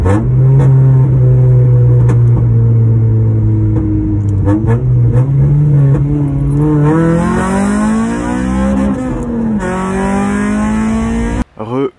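A Honda Civic EK4 engine with VTEC revs hard and drones loudly, pitch rising and falling, with crackling pops from the exhaust throughout.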